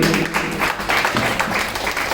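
Applause from an audience at an outdoor variety show in India, a dense wash of clapping that holds steady for about two seconds without any voices over it.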